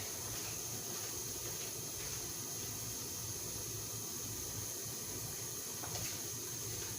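Steady running tap water rinsing a pot or vegetables during pork stew preparation, a continuous hissing flow that stays fairly quiet and unchanging throughout.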